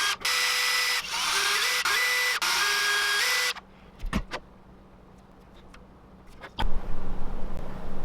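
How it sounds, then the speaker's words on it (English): An electric drill boring pilot holes in a wooden shad swimbait whines loudly and steadily for about three seconds with short stops between holes, then gives way to quiet workshop handling and a couple of sharp knocks. "I'm gonna drill all these pilot holes"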